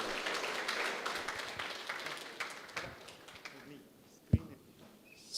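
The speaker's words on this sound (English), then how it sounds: "Please give a round of applause to spark the gatherings." A conference audience claps in a soft, scattered round of applause that slowly fades. A speaker's voice and a sharp knock come near the end.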